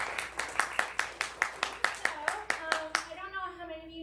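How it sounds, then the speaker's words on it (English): A small round of applause in a high school chapel, about a dozen crisp claps in a steady rhythm before it stops and a voice begins speaking. "Let's a round of applause for her"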